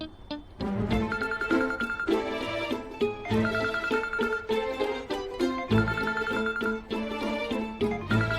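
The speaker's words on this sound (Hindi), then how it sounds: "घड़ी घड़ी काहे फोन कर रही है यार?" A phone ringtone rings over and over in a domestic scene from a Hindi TV drama, its bright repeating chime pattern loud and close with no one talking.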